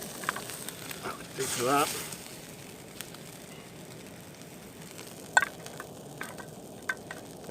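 Bacon fries in a saucepan over a camp stove at a wild camp, a soft steady sizzle under a short stirring scrape and a few clinks, with a voice speaking briefly.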